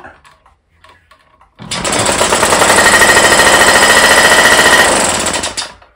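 A Solex moped's small two-stroke engine, freshly fueled, fires up after a quiet pause and runs loud and close with a fast rattling putter for about four seconds before cutting off.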